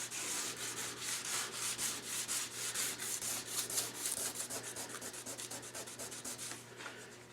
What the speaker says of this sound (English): you can go and sand it in any direction that you want, because the finish has no grain to it